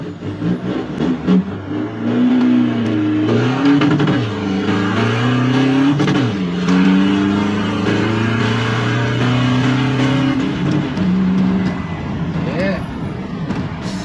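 A tuned Toyota Revo pickup accelerates hard through about three gears, its engine note climbing and dropping with each shift, loud and close, with someone talking over it.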